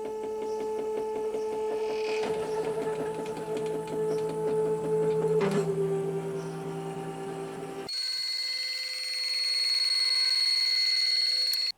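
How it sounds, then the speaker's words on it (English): Stepper motors in an RV satellite dish scan back and forth in search mode, giving a close, buzzy mechanical whirring with steady tonal pitches that shift as the dish changes direction and elevation. "its little search mode is kind of neat, where it just scans back and forth, it changes elevation each time, goes around"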